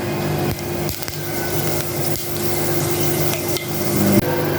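Mustard seeds and a couple of broken dried red chillies splutter in hot oil, a dense continuous crackle with sharp pops scattered through it, close and fairly loud.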